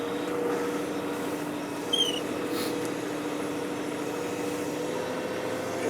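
Weidemann loader engine running steadily while the machine lifts, a continuous low rumble with a faint brief hiss partway through.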